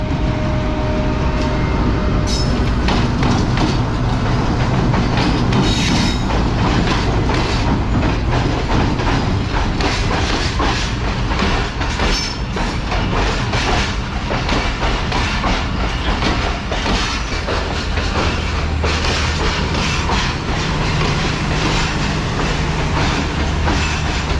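Khyber Mail train running between Karachi and Peshawar with a GU40 locomotive at its head, arriving loud and near with continuous rumble, rhythmic clickety-clack of wheels over rail joints and brief metallic squeals, no talk.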